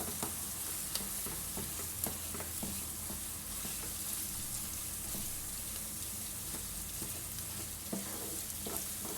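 Minced meat sizzles in a pan with sautéed onions and peppers, a steady close frying hiss broken by intermittent scrapes and stirring clinks.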